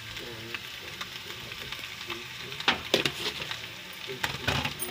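Potato fry in an Indian home kitchen, salt and green coriander just added: steady sizzling of potatoes in a pan with scraping stir strokes and clinks of the spoon, fairly close, with no talking.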